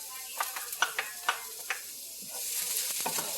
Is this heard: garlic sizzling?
yes